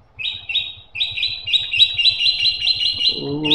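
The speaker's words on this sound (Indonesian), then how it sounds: "Bisik banget nih burung" A bird chirps loudly and close in quick, repeated high notes, a steady run of sharp tweets, with a brief lower sound at the very end.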